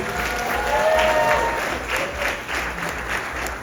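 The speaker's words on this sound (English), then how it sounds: "please give yourselves a big, big round of applause" Wedding guests at a Vivaah Sanskar ceremony break into a big round of applause, a thick sustained wash of clapping that swells early and then eases slightly while holding strong throughout.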